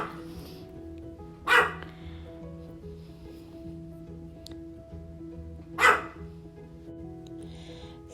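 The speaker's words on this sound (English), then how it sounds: "my dog decided he'd start barking after we started recording" A dog barks in a quiet room during a desert sunset painting session, two sharp single barks several seconds apart, fairly near, over a low steady background hum.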